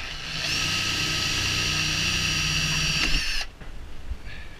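An electric drill runs loud and steady for about three seconds, its motor whining at a constant pitch, then stops, leaving faint rustling; drilling beside the glove box of a 2012 Sea-Doo GTR 215.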